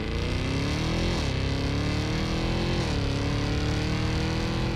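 The 2023 Cadillac Escalade-V, a body-on-frame truck with a 10-speed automatic, pulls hard under acceleration, its loud engine drone rising and dropping in pitch at two quick upshifts about a second and a half apart.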